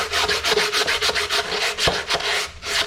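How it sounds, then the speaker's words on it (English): Sandpaper rubs by hand along a wooden guitar neck in quick, rhythmic back-and-forth strokes, close and steady with no voices. "I'm still sanding."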